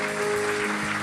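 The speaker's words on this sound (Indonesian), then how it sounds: "Berikan tepuk tangan untuk Tuhan" Steady applause from a church congregation clapping for God, a dense continuous wash of hands filling a large room, with sustained organ or keyboard tones underneath.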